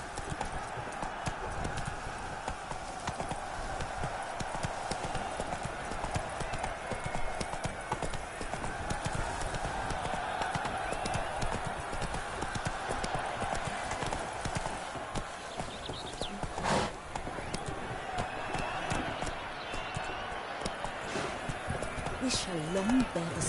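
Horse Roach galloping in The Witcher III, rapid rhythmic hoofbeats pounding steadily throughout, with a character's voice talking over the top.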